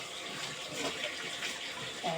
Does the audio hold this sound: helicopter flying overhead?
no